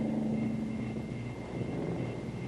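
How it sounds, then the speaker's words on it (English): An experimental two-seat helicopter with ram jets on its blade tips gives off a steady, loud, continuous engine roar with a faint whine, holding level throughout without pause. "The search for a practical small helicopter has resulted in this experimental 2-place model powered by ram jets on the blade tip."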